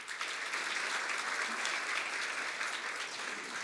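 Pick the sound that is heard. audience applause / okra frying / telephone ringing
audience applause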